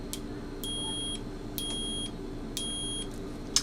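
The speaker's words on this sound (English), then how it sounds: "So it's going to beep if it works." Three short electronic beeps from a multimeter continuity test, evenly spaced about a second apart, steady high-pitched tones over a quiet background hum.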